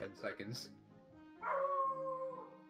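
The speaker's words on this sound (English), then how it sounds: "Pardon my dog." A dog in the Cuphead video game gives one drawn-out, whining howl that rises and then slowly fades. It comes right after a stretch of talking.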